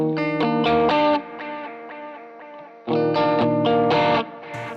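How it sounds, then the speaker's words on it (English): Electric guitar played through a pedalboard with delay, reverb and tremolo: chiming, sustained chords and notes with a wet, echoing shimmer and pulsing swells, loud and close, in two bursts separated by a fading tail, with no voice. "just delay, reverb, and trem."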